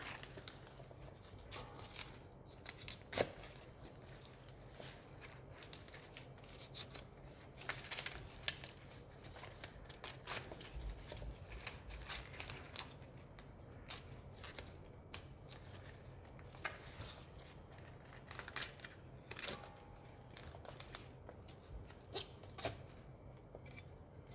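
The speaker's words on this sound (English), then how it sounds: "take off the outer leaves and give that to the worm farm" Outer leaves are snapped and torn off a small head of cauliflower, a steady run of crisp cracks and rustling crackles repeating irregularly at close range, with no talking.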